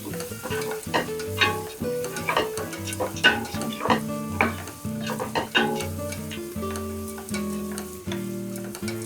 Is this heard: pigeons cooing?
no